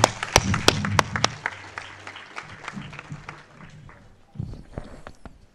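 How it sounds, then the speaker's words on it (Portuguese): A small gathering at a civil association meeting claps for Mr. Wills, a few sharp scattered claps at first that thin out into sparse taps and soft movement. "aplauso para o senhor Wills"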